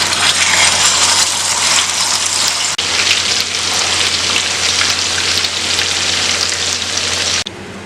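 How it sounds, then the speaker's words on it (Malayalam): Marinated chicken for Malabar chicken biryani fries in hot oil with a loud, continuous, crackling sizzle. The sizzle briefly dips partway through and then drops off near the end. "അങ്ങനെ ഓയിൽ നന്നായി ചൂടായിട്ടുണ്ട്. നമുക്കിതിലേക്ക് മാരിനേറ്റ് ചെയ്ത് വെച്ച് ചിക്കൻ ഇതിലേക്ക് ചേർത്ത് കൊടുക്കാം."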